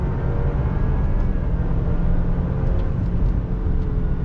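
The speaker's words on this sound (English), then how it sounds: "Dead stop, first gear, give it some throttle." An Alfa Romeo Stelvio pulls uphill from a dead stop through its ZF 8-speed automatic, with a loud, steady engine drone and road rumble heard from inside the cabin.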